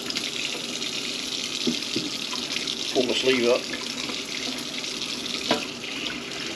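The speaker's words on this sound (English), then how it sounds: "you don't want hot water nor cold water, so I'm just going to turn both of them about halfway on" Kitchen tap running with both hot and cold turned about halfway, so lukewarm water pours steadily into the sink, a continuous close hiss and splash while a person talks briefly over it.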